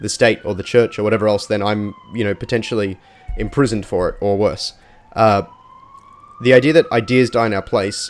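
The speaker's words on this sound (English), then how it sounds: "sorry if you can hear a siren in the background" Emergency vehicle siren wailing in the background, a steady rising and falling tone running faintly beneath a man's continuous close-up talking.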